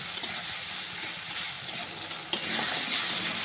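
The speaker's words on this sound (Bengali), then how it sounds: "সব কিছুকে একসাথে কষিয়ে রান্না করে নেব মশলাটাকে" A spice masala with turmeric and salt fries in a pan with a steady close sizzle, and a sharp scrape of stirring breaks in partway through.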